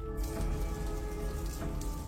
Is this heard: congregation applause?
no